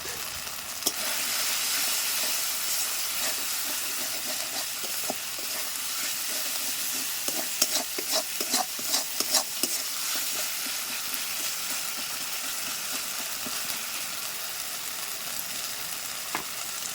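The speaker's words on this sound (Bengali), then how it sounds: "দেখো মশলাটা কষানো হয়ে গেছে" Masala spices frying and being stirred in a pan, with a continuous loud sizzle and hiss and a cluster of scraping stir strokes in the middle, close and steady, without talk.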